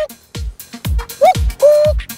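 A man imitates a cuckoo call with his voice alone, no hands at the mouth, giving repeated two-note hoots in a steady rhythm, close and fairly loud.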